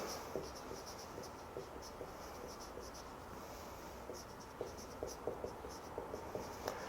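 Pen writing out the scientific name Monstera deliciosa on paper, faint close scratching strokes with light taps, steady and quiet throughout, no talking.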